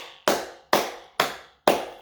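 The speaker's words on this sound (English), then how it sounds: "He gets a round of applause." Four sharp, evenly spaced hand claps ring out one after another, each with a quick decaying tail, close and dry with nothing else around them.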